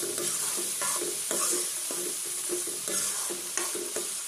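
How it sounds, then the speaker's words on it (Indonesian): Gori krecek stew being stirred in a frying pan with bay leaves, lime leaves, galangal, ginger and lemongrass, a steady sizzle under repeated spatula scrapes and stirs, close and fairly loud, no talking. "Aduk kembali"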